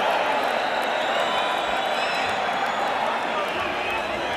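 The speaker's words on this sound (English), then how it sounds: "the crowd is applauding the courage of Steve Zouski as much as they're applauding the efforts of Mike Tyson" A boxing arena crowd at a Mike Tyson versus Steve Zouski fight applauds and cheers in a dense, continuous roar of clapping and voices, with a commentator talking over it.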